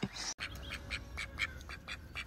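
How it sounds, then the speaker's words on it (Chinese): A duck quacks in a quick series of repeated, fairly close calls, with one brief gap early on and no talk over it. "这鸭子脸皮厚啊，你居然跟过来了。"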